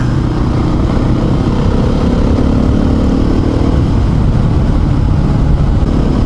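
A Husqvarna motorcycle riding along a dirt road, its engine a loud, constant low drone mixed with rumbling wind noise, with no change in pace throughout.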